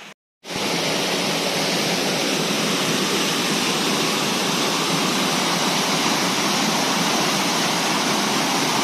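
A waterfall on a farm in the early morning, running high after rain, roars as a loud, steady, close rush of falling water that fills the whole clip after a brief silent start.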